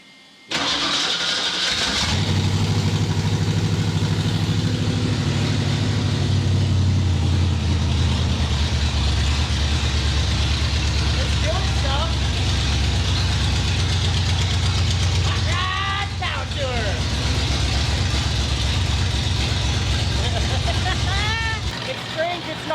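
A project car engine starts and settles into a steady, loud idle around 1,000 RPM, a continuous low rumble that holds throughout, with people talking over it near the middle and the end.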